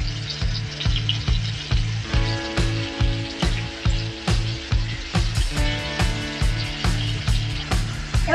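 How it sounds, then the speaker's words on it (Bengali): Coated chicken strips fry in a pan on low heat, sizzling with a rhythmic, repeated scraping of a utensil against the pan, steady and close. "এরকম করে কোট করবো আর ভেজে নেবো"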